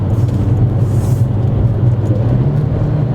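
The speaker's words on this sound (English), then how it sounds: "Now when you shift down, it grabs a gear very quickly." Porsche 992 Carrera 4S engine downshifts, a steady loud low rumble with a strong droning engine tone holding through the whole stretch, close and continuous with no talk.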